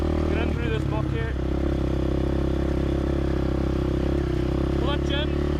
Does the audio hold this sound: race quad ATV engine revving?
yes